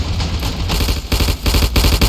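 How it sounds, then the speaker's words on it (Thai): Rapid automatic bursts from a Mauser machine pistol in the Ravenfield video game's World War I trench battle, loud and continuous rattling gunfire with dense overlapping shots filling the moment. "ปืนพกมอเซอร์แบบปืนกล"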